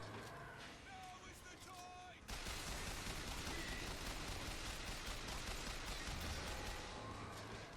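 Dense, continuous gunfire from the final battle of Bioshock Infinite on 1999 Mode, fired against mechanical Patriot enemies, as a quiet sustained roar of shots that swells after a softer opening, with a voice talking over it.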